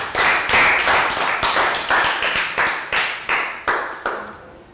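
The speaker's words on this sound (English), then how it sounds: "Round of applause for Pak Boon." A class of Year 3 pupils in a health education lesson gives a round of applause, with clear, rhythmic hand claps arriving in bursts that slowly thin out and fade over several seconds, with no talking.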